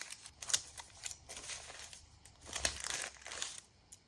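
Stencils cut from deli paper being handled at close range, giving soft crinkling and rustling in irregular bursts, quiet with no talk.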